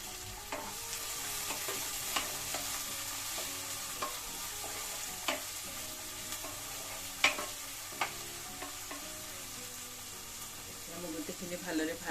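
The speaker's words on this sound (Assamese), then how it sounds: "ইয়াতে মই দিলোঁ পিঁয়াজ" Onion frying in a pan with ginger, garlic and green chili paste gives a steady close sizzle, with scattered stirring scrapes and clicks throughout.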